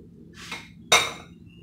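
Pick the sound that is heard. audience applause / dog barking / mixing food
mixing food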